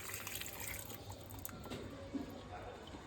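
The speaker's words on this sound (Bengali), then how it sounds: "জল পড়ছে।" Water runs steadily from a kitchen tap in a home, a continuous soft splashing flow, fairly quiet and close, with a faint voice in the background.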